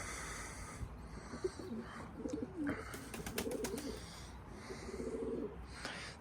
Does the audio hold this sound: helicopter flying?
no